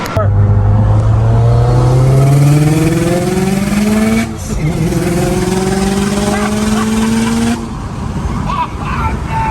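A Ford BBR 500 package car engine accelerating hard in rising gear sweeps, loud and close, with one brief shift break and a second pull, revving throughout.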